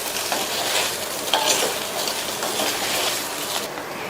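Fried brinjal being stirred with curry leaves in a pan of oil for a spicy Tamil side dish, giving a steady sizzling hiss with scraping spoon strokes throughout.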